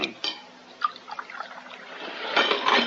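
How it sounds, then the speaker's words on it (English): Coffee is poured into a cup on a boat, a thin close liquid stream gurgling and rising in pitch as the cup fills, with faint clinks at the start. "Is that coffee? Yes. I'll pour you some."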